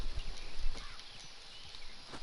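Horse hooves clip-clop at a steady walking pace in the Red Dead Online video game, faint and close, with a low background rumble.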